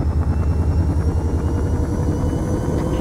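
Loud, steady helicopter rotor thumping with a constant engine drone in the video game Arma 3, close and continuous throughout.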